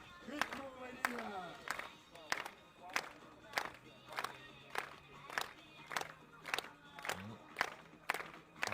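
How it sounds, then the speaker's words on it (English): A stadium crowd at a European Throwing Cup athletics meet in Leiria, Portugal, clapping in a steady rhythmic beat to support a thrower in the circle, sharp regular claps about twice a second with scattered shouts beneath. "Happy to have the crowd clapping in support."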